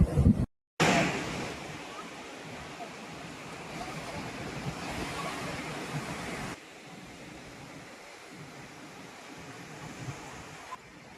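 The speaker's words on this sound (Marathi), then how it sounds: "हे समुद्र बीच याला म्हणतात" Sea waves washing onto a Konkan beach at Harihareshwar, a broad steady surf roar with some wind buffeting the microphone, louder at first and softer later, with a brief dropout near the start.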